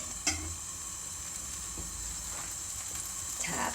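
Leftover pork bulgogi marinade sizzles and hisses in an unwashed pan over high heat, a steady close frying sound with a small clink near the start.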